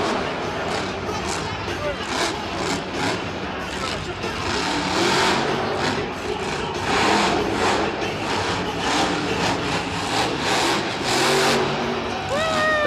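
The Max D monster truck engine revving inside MetLife Stadium, a loud, rough roar that surges and falls repeatedly, with a crowd and an announcer talking over it throughout.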